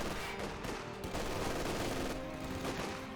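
Dense, continuous gunfire from the video game Company of Heroes 2 fills the scene as many squads fire on a rifle squad in a garrison, with rapid overlapping shots and machine-gun bursts at steady loudness.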